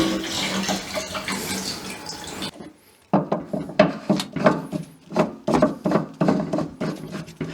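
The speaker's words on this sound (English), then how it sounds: "Pour some of that in that hole." Fuel treatment glugs from a bottle into a skiff's fuel tank in uneven bursts of pouring and gurgling, close up, after a short pause.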